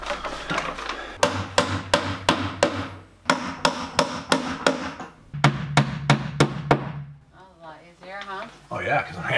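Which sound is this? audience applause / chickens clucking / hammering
hammering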